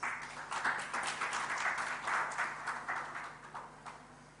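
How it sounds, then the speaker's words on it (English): An audience at a government digital summit applauds on request for guests joining the stage, giving a fairly faint, steady patter of clapping with no words spoken. "Could we have a round of applause,"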